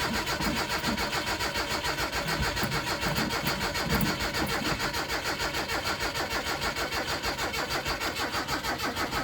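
A car engine with a boosted, reconditioned battery cranks with a fast, even, pulsing whir that runs loud and unbroken, with a brief catch partway through. No voices.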